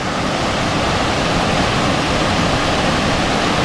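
Dinadayung Falls in Mindanao roars as a steady, loud broadband rush of falling water, close and unbroken throughout, with no voices over it.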